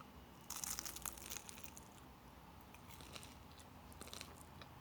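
Crunchy bites into taş kadayıf, a syrup-soaked walnut-filled dessert, as a few close, crisp crackles arrive in quick bursts over a quiet room.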